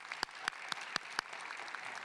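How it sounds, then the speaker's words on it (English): Applause from the audience at a North Salinas High School valedictorian ceremony, with five sharp, evenly spaced claps standing out over a faint, steady patter of clapping in a large room. "oh, we can applaud her, yeah"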